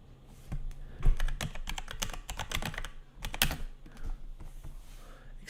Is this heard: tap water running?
no